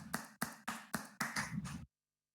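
A few hands clap in the back of a medical lecture hall: about seven separate, fairly close claps in an uneven rhythm, then silence.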